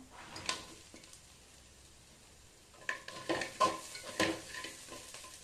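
Chilli chicken is stirred into fried rice in a pan, with faint sizzling and then a few scraping, clinking strokes of a utensil against the metal, quiet and close.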